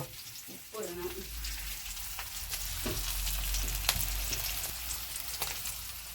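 Moringa leaves and egg thoran fry in a pan with a steady, close sizzle, broken by occasional scrapes of a spoon stirring. A voice speaks faintly now and then.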